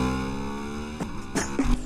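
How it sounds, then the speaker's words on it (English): A Ducati V-twin motorcycle weaving through traffic in a Deadpool (2016) chase scene gives a loud, steady booming engine drone that holds a firm pitch, with brief sharper bursts of noise near the end. "the signature booming sound of a V-twin"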